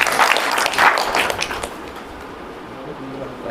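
Applause breaks out at a Congress party meeting in Bhadra, a burst of many hands clapping loudly at first, then quickly thinning and fading into the murmur of the room.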